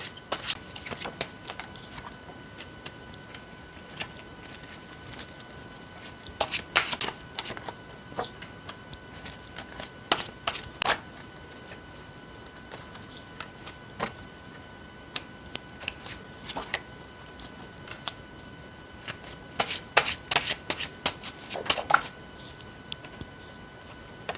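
Tarot cards being shuffled and handled close up, bursts of quick riffling clicks separated by quiet gaps, with a faint steady background hum throughout.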